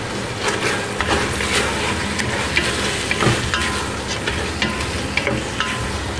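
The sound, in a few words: mash dal lentils being added to a cooking pot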